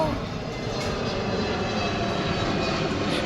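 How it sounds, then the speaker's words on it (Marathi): Loud, continuous roar of an airplane engine passing overhead, steady and broadband throughout. "इकडे ना विमान आलंय आता विमानतळ जवळ आहे ना"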